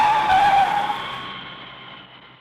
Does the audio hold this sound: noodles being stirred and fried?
no